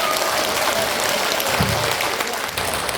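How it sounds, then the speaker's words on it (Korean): A hall of elderly attendees at a seniors' college lecture clapping to welcome the dean, a steady wash of many hands at even volume with no talk over it. "학장님을 큰 박수로 맞이해 주시기 바랍니다."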